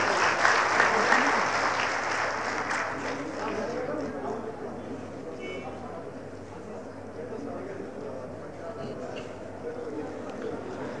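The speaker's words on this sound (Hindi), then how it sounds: "जोरदार तालियां नड्डा जी के लिए।" Audience applause at a BJP political event in Una, Himachal Pradesh, a broad steady wash of clapping that is strongest at the start and then settles into a sustained, slightly fading roar of hands.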